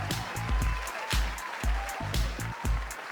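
Sharp hand claps repeat in a steady rhythm over a deep, booming bass beat, with layered percussion and music throughout.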